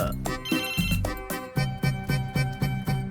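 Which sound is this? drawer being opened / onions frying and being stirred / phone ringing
phone ringing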